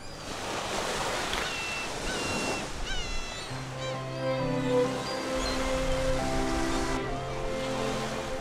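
Sea waves rolling onto the shore of an island in the West Sea, a steady close wash of surf with some wind noise, later joined by a sustained tonal drone.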